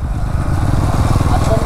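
A TVS Apache RTR 200 4V Race Edition motorcycle engine while riding, a steady loud droning rumble with a pulsing low tone that holds throughout, close to the microphone.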